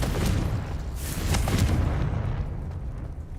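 Confringo fire spell in Hogwarts Legacy, a run of loud, rumbling blasts with sharp bursts in the first half before the boom rolls off into a fading low roar.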